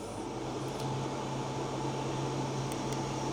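A Lidl SilverCrest portable air conditioner runs with a steady, loud broadband whoosh and a low constant hum, with faint ticks near the start and end.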